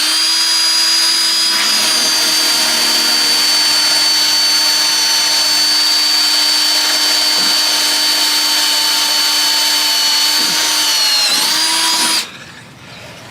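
Power drill cutting a hole through the other side of a metal bracket on a Chevy C50 truck, a loud continuous high whine lasting about twelve seconds with slight dips before it stops abruptly.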